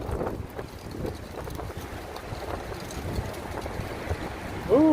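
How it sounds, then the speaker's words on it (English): Wind gusts on a chilly city street, heard as steady rumbling buffeting against the microphone, rising briefly at the end, with no one speaking. "it just got windy and chilly"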